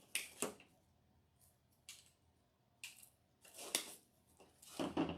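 Scissors snip through artificial hydrangea flower stems for a spring wreath, a handful of crisp, close cuts spaced out irregularly in a quiet room.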